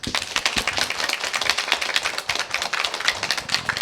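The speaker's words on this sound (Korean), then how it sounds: "우리 장로님 다시 한번 장로님께 박수 한번 쳐주세요" A church congregation applauds an elder during a choir dedication worship service, dense continuous clapping from many hands filling the room steadily and loudly throughout, with no voices standing out.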